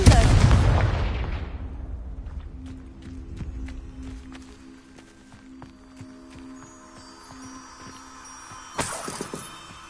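A Confringo fire spell from the video game Hogwarts Legacy detonates in a loud, close booming blast that fades over a second or two. Quieter in-game ambience with a steady hum follows, and a sharp crackling burst comes near the end.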